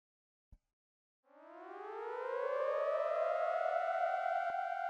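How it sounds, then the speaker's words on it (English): Siren from the video game Steins;Gate 0, preceded by a brief sharp click. The wail then rises steadily in pitch and swells to a loud, sustained tone that holds steady, heard alone without speech. "Suddenly, I heard a siren down below."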